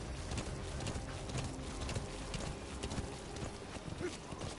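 Horse hooves clip-clop in Metal Gear Solid V: The Phantom Pain, set in Afghanistan, as a steady, fairly close galloping rhythm over a busy game soundscape.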